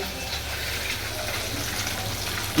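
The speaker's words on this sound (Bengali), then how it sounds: "হচ্ছে মাছ ভাজা কাতলা মাছ" Catla fish frying in a pan with a steady, dense sizzle of hot oil, close and continuous, with no talking.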